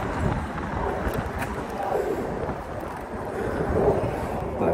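Strong wind buffets the microphone out at sea, a continuous rough rumbling roar with gusty swells, steady and close throughout.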